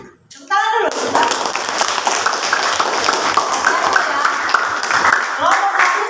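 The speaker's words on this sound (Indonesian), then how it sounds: "Tepuk tangan dulu." A class applauds a presenting group after a brief spoken moment, then fairly loud, sustained clapping from many hands nearby, with a voice rising near the end.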